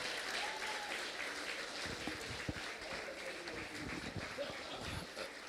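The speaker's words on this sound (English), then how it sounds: "If you're giving them a round of applause, can you make it a bit louder?" Audience at a live-streamed event in Nigeria clapping in a steady, sustained round of applause, fairly faint and distant throughout.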